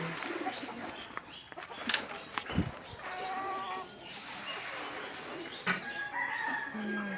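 Outdoor farmyard with chickens clucking and a brief crow, mixed with pigeon-like cooing and other bird calls, moderately close.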